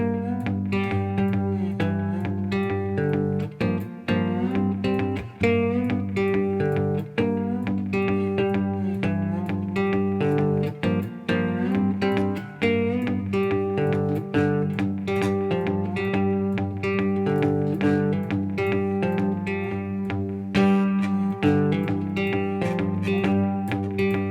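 A twangy cigar box guitar plays a steady swung shuffle rhythm in a blues style, strummed chords repeating without any voices.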